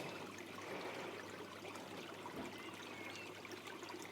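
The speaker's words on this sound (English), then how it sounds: "I've kept quiet, so hopefully you can just hear that little bit of water." A tiny garden stream fed from a local stream trickles among foliage, a faint continuous wash of running water with no talking over it.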